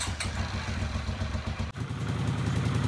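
A Honda CX500 motorcycle engine catches and runs after a brief cranking stutter, settling into a loud, steady, slightly rough idle close by.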